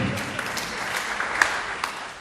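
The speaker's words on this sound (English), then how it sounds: "And another applause to yourselves for being so patient" Audience applause at a public lecture, a fairly quiet and diffuse wash of clapping with a few louder individual claps standing out.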